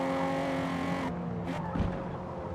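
A Toyota Camry TRD with a naturally aspirated V6 in Forza Motorsport revs hard, its tonal engine note dropping off abruptly as tires squeal briefly, close and loud over a short burst of racing sound.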